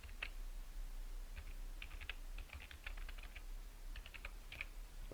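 Quiet, close typing on a computer keyboard as a password is entered: bursts of light, quick key clicks with short pauses between them.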